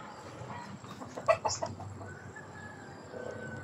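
A brooding hen gives a few soft, low clucks in a short cluster against quiet farmyard background noise.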